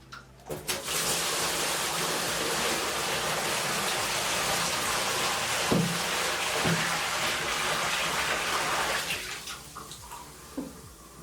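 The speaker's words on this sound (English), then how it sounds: "We'll fill them up with fresh water and get some salt running in one of them." Fresh water pours steadily into containers during a water change for an Innovative Marine Nuvo 10 saltwater aquarium, a loud, close, continuous splashing with a few knocks before the flow stops near the end.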